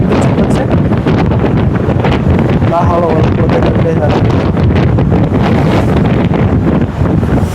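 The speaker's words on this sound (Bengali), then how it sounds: "আমি দাঁড়িয়ে থাকতে পারছি না, এত পরিমাণে বাতাস" Strong storm wind roars across the microphone beside a river where launches pass, a loud, constant buffeting rush with a voice speaking faintly beneath it.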